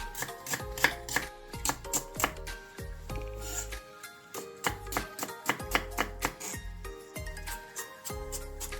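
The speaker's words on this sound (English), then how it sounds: "Let's start cutting onion and ginger." Onion and ginger chopped with a knife on a board, a quick run of sharp rhythmic chops, close and clear over faint background music, with no talking.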